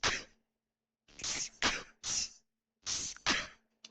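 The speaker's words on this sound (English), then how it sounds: "Did Slow sneeze when he made this" A series of about six sharp, breathy sneeze-like bursts from a video game, grouped irregularly with short silences between, close and fairly loud.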